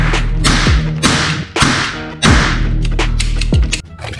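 Toy gun sound effects play as a series of loud electronic zapping bursts, each with a sweeping pitch drop, repeating about every second, close and dominant, with no talk.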